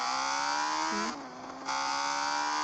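Motorcycle engine in Gangstar Vegas holding a steady, buzzing drone that briefly dips in pitch and loudness mid-clip before returning to its even, close-up hum.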